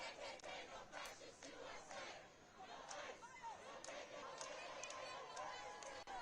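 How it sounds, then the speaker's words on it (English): A large crowd of people cheers and shouts continuously at a distance, a dense, faint roar of many voices with scattered louder yells. "See, these people who are cheering, they already agree with it"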